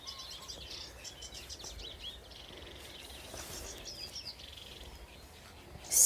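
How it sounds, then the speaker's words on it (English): A reed warbler sings at a river at Deeping Lakes Nature Reserve in spring, a faint, scratchy chattering song at middle distance over a low outdoor background, with no talking. "I can hear a reed warbler again."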